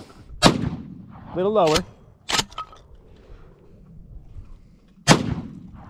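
A Mossberg 590M magazine-fed 12 gauge shotgun is fired from the hip outdoors, sharp loud blasts spaced irregularly, with a brief spoken remark and other voices between shots.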